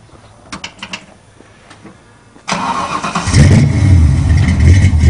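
A modded 5.0 V8 in a 1973 Ford Capri sits quiet with faint clicks, then fires abruptly and settles into a loud, rough idle that swells as the throttle is blipped a few times.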